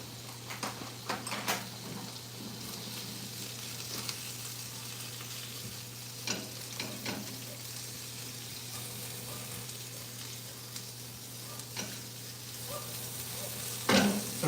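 Salmon bites cooking in a pan at home, an even, faint sizzle running throughout with scattered soft pops and a few clinks near the end.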